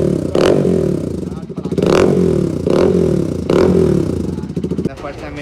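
A Pulsar RS 200 motorcycle fitted with an Austin Racing full-system exhaust revs loudly and deeply in four rising bursts, each blip swelling then dropping back to a rough idle, close to the bike.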